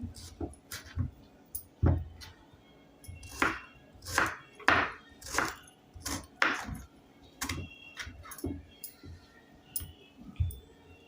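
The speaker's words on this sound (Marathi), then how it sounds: "इथे मी दोन्ही कैऱ्या कट करून घेतलेल्या आहेत" Raw mangoes, peeled, chopped with a knife on a board into pieces for a sugar-free sarbat, with a steady series of sharp, close thuds and clicks in uneven rhythm and no talk.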